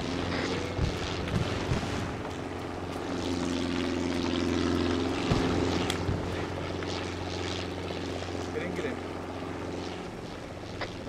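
A helicopter in a military video game drones with a steady rotor and engine hum throughout, joined by occasional thumps and bursts of activity, while players talk over it.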